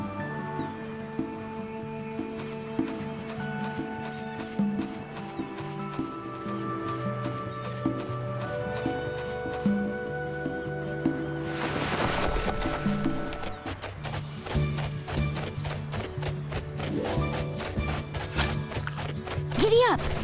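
A horse gallops in the Barbie Horse Adventures video game, steady clip-clop hoofbeats over a layer of game music, with a burst of activity midway and continuing hoof rhythm to the end.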